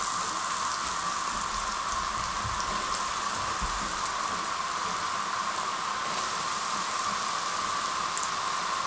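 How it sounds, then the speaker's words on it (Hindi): Potato french fries frying in hot oil over a high flame, a steady dense crackling sizzle like rain that runs evenly throughout without pause. "हाई फ्लेम पे हम 2 दफ़ा इनको फ्राई करेंगे, लेकिन पहले दफ़ा में हम 5 मिनट फ्राई करेंगे"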